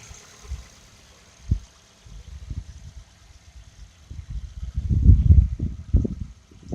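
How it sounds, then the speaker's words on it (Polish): A 2009 Mazda 3 engine idles with a low, uneven rumble, fairly quiet and close, swelling into a denser, louder stretch toward the end. "A teraz odpalamy. O. I posłuchamy sobie silnika."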